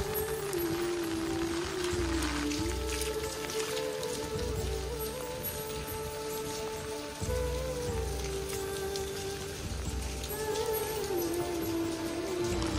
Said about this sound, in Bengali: পুলের পানিতে বৃষ্টির টপ টপ শব্দ।